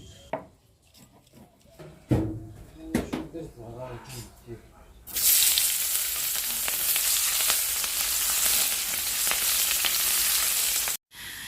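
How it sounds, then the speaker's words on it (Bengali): Onion and potato drop into hot oil in a pan and set off a loud, sustained sizzle that fills the second half, after a quieter stretch of scattered kitchen clatter and knocks, close by. "পেঁয়াজ ফোড়ন দেওয়ার পরে একটুখানি একদম সামান্য পরিমাণে ভেজেই আলুটা দিয়ে দিচ্ছি"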